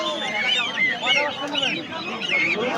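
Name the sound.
Chinese ducks and ducklings at a village market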